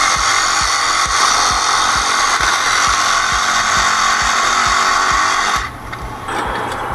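A power tool blade cuts through nails beneath roof felt around an attic fan opening, a loud steady buzzing grind with regular rhythmic pulses that stops near the end.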